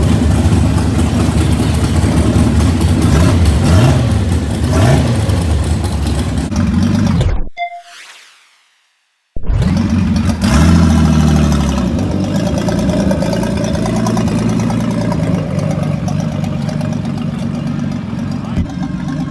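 A Datsun 280ZX engine idles and revs loudly at a quarter-mile drag strip, running heavy and steady, then drops into about two seconds of silence before the engine noise returns at full strength.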